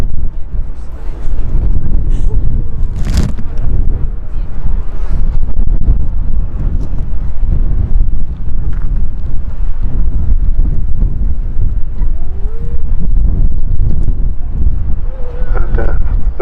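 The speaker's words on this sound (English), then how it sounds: "Sorry about the wind," Strong wind buffets the microphone at an airport viewing park, a loud continuous low rumble and roar that barely lets up, with a voice faintly underneath.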